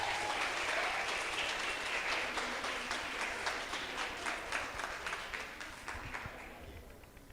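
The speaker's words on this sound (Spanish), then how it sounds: "¡Un aplauso!" Audience applause greets the next speaker at a school TED club event: a steady wash of many hands clapping that fills the room, then gradually thins and fades toward the end.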